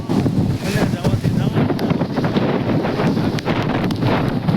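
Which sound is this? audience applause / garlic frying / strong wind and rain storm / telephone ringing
strong wind and rain storm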